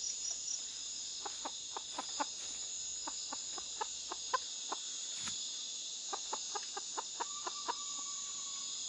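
Chickens cluck in a quick series of short, sharp notes in the Amazon jungle over a constant high insect drone, with a brief thump midway.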